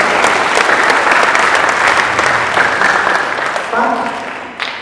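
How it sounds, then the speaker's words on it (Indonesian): An audience at a company family gathering applauds their team with dense, sustained clapping that stays loud throughout and tapers slightly at the end. "Berikan tepuk tangan untuk tim Anda yang luar biasa"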